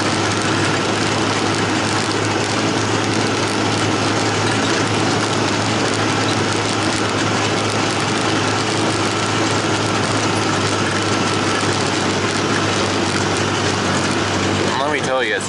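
A side-by-side utility vehicle runs steadily throughout, its engine giving a loud, constant low drone mixed with wind and rattling, heard close up from the driver's seat.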